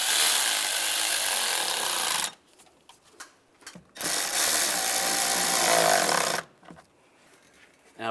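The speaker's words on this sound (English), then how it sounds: "and tighten the worm clamps down." Worm-drive hose clamps on a coolant hose of a 2007-2013 Chevrolet Silverado 1500 are run down with a loud, buzzing power driver in two sustained bursts of about two seconds each, separated by quieter clicks and handling noises.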